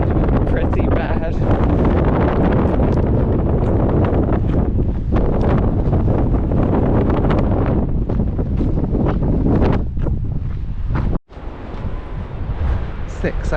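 Strong, gusty wind buffeting the microphone outdoors during a long walk, a loud continuous roar that drops out briefly near the end before resuming.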